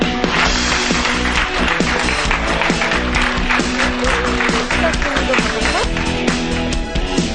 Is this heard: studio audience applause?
yes